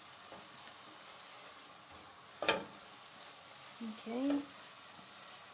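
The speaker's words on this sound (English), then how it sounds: "Keep stirring it, make sure it doesn't brown." Spices such as fenugreek being stirred and sizzling in a pan, a steady broad frying hiss with a sharp scrape near the middle and a brief spoken word.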